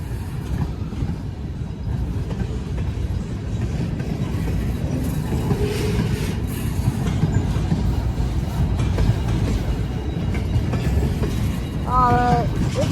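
A freight train with tanker cars rolls past steadily and loud, a dense continuous rumble with rail clatter throughout, plus a brief high squeal near the end.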